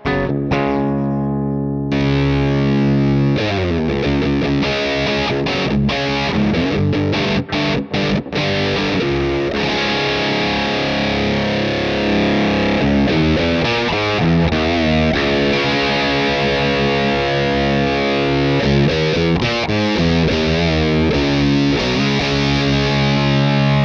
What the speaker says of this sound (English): I'm gonna start off with medium gain, and I have the clipping engaged on the channel two, and I'm also using that high boost